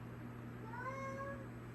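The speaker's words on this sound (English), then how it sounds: "Cat's yelling at me now." A house cat gives one short, rising-and-falling meow, fairly clear but quiet over a steady low electrical hum indoors, with no talking.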